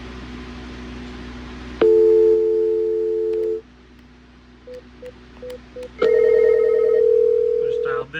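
Cisco 8831 conference phone dialing 0: a loud steady call tone starts, stops, then a few short beeps follow before another sustained ringback tone plays to the end, clear and close.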